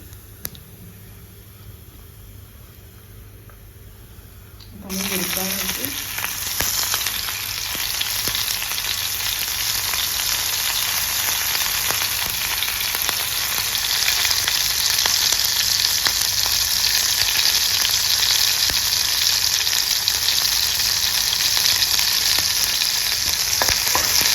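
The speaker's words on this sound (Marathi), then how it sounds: "जिरे छान तडतडले आहे" Cumin seeds spluttering and frying in hot oil for sabudana khichdi: a quiet kitchen, then a sudden loud burst of sizzling that settles into a dense, continuous crackle close to the pan.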